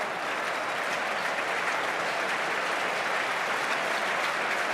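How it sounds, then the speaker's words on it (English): Sustained crowd applause fills the air at a football match, a dense, even roar of clapping and cheering from a large stadium, continuous throughout with no pauses. "Applause all round for Carlton Cole."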